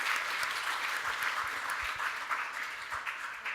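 An audience applauds a panel discussion on business and an open, free internet, with dense steady clapping that holds at an even level for a few seconds and thins slightly toward the end.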